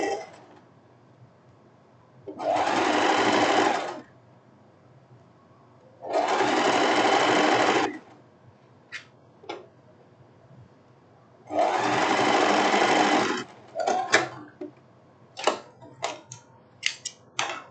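A sewing machine stitches a silk blouse sleeve in three long, even bursts of rapid mechanical whirring, close up, separated by quiet pauses with light clicks and handling sounds.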